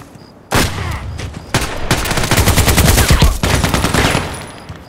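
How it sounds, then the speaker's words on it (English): Gunfire in the first-person shooter Contract Wars: bursts of rapid automatic fire, loud and close, starting after a brief pause and continuing in dense volleys with short gaps. "Who was shooting me?"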